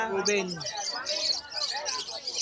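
Lovebirds, including a lutino pair, squeezed into a small carrier at a pet market in Malabon, give sharp chirps and squawks close by, with people talking over them.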